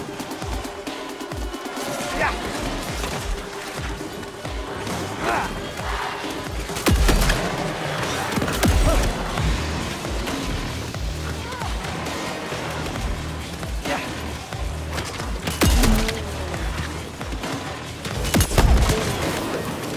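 Steady, dense gunfire from a virtual reality shooter game, with loud bursts and booming shots running nearly continuously over a rumbling game background, no talk.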